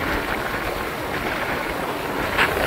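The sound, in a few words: motorbike riding on the road with wind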